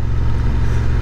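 A Honda Hawk 11 motorcycle engine runs up close with a loud, steady, low throbbing pulse during a brief moment.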